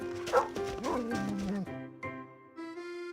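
Several sled dogs barking and yipping in the Love & Deepspace video game, quick excited barks that blend into a whine and then a fading tonal cue, with a voice talking under it.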